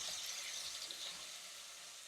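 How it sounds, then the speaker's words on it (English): Chopped onion fries in a couple of tablespoons of oil in a hot, medium non-stick pot while being stirred, giving a steady, faint, even sizzle with no talking. "Add a couple of tablespoons of oil. I'll add the onion. I'll give it a stir."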